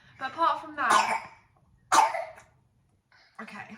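A six-month-old baby coughs in several short, close bursts, with brief pauses between the harsh hacks and a softer throaty sound at the end.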